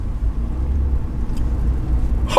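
Ford truck on a leveling kit making a tight U-turn in a tiny parking lot, its engine a low, steady rumble at close range with a brief lift near the end.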